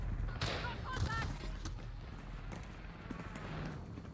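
Enemy gunfire in Warzone Rebirth: a cluster of shots early on, then steady battle noise under an in-game voice callout.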